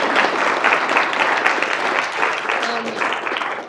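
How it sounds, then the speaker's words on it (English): Audience applause for a guest speaker at a talk on the history of disability in World War II America: sustained, dense clapping from a room full of people, steady throughout, with a few voices mixed in. "Let's give one more round of applause to our guest speaker."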